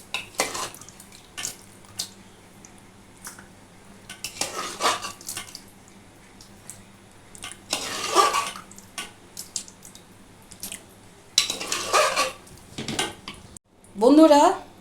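Utensils clink and scrape as mutton kosha is served from a pressure cooker, in scattered bursts of metal-on-metal knocks with quiet gaps between and a louder clatter at the close.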